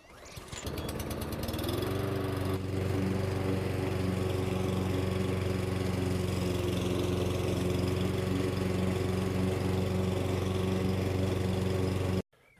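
Einhell multipurpose lawn mower cutting grass set to its lowest cutting height, a steady droning engine hum that starts up and then holds a constant pitch, close and continuous for about ten seconds before cutting off abruptly.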